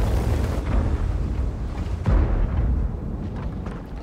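Artillery gun in a video game fires shells, heavy low booms rolling continuously with a sharper blast near the middle, loud and close with no talk.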